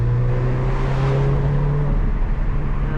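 Turbocharged JDM Subaru Legacy GT with a twin-scroll EJ20Y engine, a loud steady drone of the car driving, with a low engine hum and a thin whine over continuous road rumble, no talk.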